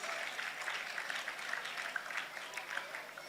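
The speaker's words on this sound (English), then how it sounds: "A round of applause for yourselves" An audience at a college graduation ceremony applauds the graduating class, a soft, steady wash of many hands clapping that sounds distant and faint, continuing evenly for a few seconds.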